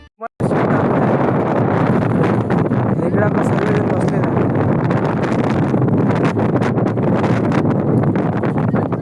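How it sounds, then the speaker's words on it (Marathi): Strong wind roars steadily across the microphone on a rocking ferry boat near the Gateway of India, Mumbai, a loud continuous rush with brief voices near the start. "आपली फेरीबोट पण हलते आहे. वारा पण भरपूर सुटला"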